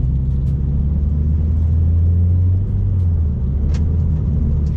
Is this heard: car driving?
yes